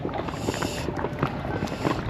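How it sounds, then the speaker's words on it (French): A brand-new 3D Tender 290 inflatable dinghy cruising under a small electric outboard motor, giving a steady, close wash of water and wind noise with no voices. "pour essayer l'annexe qui est toute neuve et puis pour essayer le moteur aussi"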